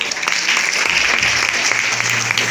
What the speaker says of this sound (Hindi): बिल्कुल सही जवाब, जोरदार तालियां।